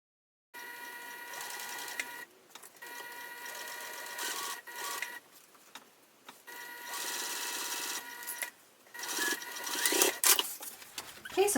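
A sewing machine stitching a straight seam on a tote bag, running in slow stretches with short pauses between bursts of steady mechanical whirring and needle clatter.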